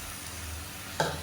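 Blended tomato puree added to a hot pan for a radish and drumstick tamarind kuzhambu gives a soft, steady sizzle, with a short louder splash and stirring burst near the end; quiet and free of talk.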